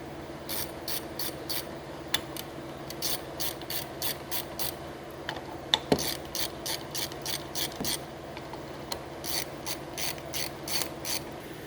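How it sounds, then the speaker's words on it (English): A half-inch wrench ratchets bolts loose from a Jacobsen LF1880 reel mower in a workshop, giving quick bursts of close, crisp clicking with short pauses between strokes. "first thing you're going to want is a 1/2-inch wrench. Got 4 bolts right here."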